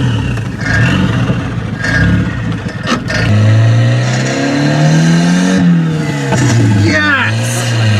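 Volvo 240 Turbo with a freshly swapped manual gearbox, running and revving loudly up and down through several rising and falling engine sweeps, close to the listener and continuous from start to finish.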